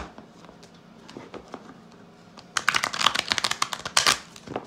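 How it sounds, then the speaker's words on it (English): A deck of tarot cards is riffled and shuffled in quick, crisp bursts, soft at first and then louder and denser, with brief pauses between. "I'm going to give it just a quick shuffle"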